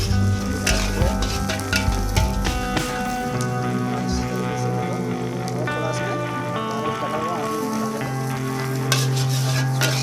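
Mixed vegetables including chopped carrot frying in a pan for egg fried rice, a steady sizzle with scraping stirs under music-like tonal background, moderately loud throughout.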